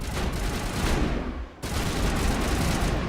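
Rapid gunfire from a sniper rifle in the video game Mass Effect Legendary, a loud dense burst that cuts out briefly midway and then resumes as sustained shooting.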